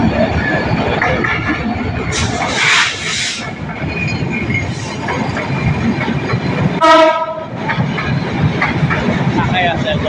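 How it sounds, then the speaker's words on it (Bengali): A direct passenger train passes at night, a loud continuous rumble of wheels on rails with clacking joints and squealing, and one short blaring horn blast partway through. "দেখতে পাচ্ছেন একটি ডাইরেক্ট ট্রেন যাচ্ছে পিএলসিটিতে।"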